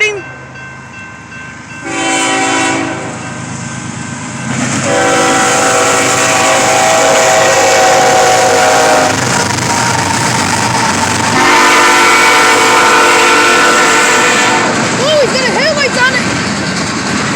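A passing train sounds its horn in long sustained blasts over a loud rumble of rail cars, with voices talking close by.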